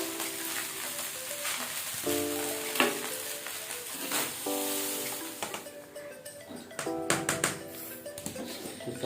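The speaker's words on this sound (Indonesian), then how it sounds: "Kita goreng dulu basreng." Basreng, fried fish balls, sizzle in hot oil in a pan, a constant crackling hiss with occasional stirring clatter, while music plays along in the background.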